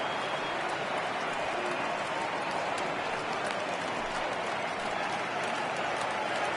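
Large baseball stadium crowd of over 39,000 at a minor league All-Star game in Chicago, on their feet cheering and applauding in a steady, dense roar of clapping and voices that fills the whole stretch.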